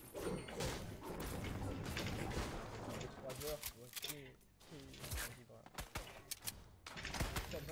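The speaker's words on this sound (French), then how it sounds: "Il y a des mecs qui me tirent dessus" Enemy gunfire in a French-language shooter game, a dense run of rapid shots and thuds under a player's continuous talking, with quieter gaps midway before more bursts.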